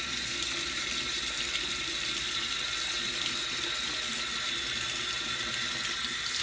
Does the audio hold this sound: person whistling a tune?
no